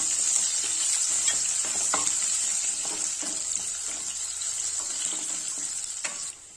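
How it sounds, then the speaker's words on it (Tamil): Crushed garlic and a small piece of crushed ginger sizzle in hot oil in a pan for potato masala, a steady loud frying hiss with occasional spatula scrapes and taps, close, without speech. "இதில் நாலு பல் பூண்டை இடித்து வச்சுருக்கேன் இதை சேர்த்துக்கலாம் கூடவே ஒரு சின்ன பீஸ் இஞ்சி இடித்து வச்சுருக்கேன் இதையும் சேர்த்துடலாம் வணக்கிக்கலாம்"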